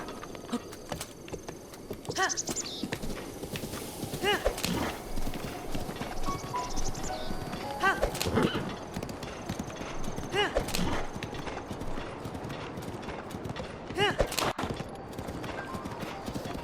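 Hooves clip-clop at a rapid gallop on a horse in The Legend of Zelda: Breath of the Wild, with whinnies and game sound effects layered over a busy, continuous mix.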